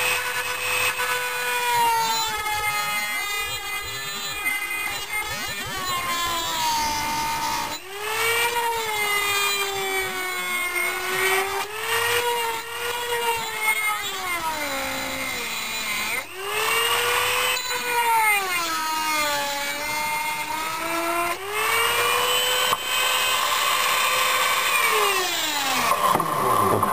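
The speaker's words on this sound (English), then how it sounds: "So, Dremel on full power." Dremel rotary tool on full power cutting game and video ports off a circuit board, high-pitched whining motor that dips and rises in pitch as it bites into the material, with brief pauses between cuts.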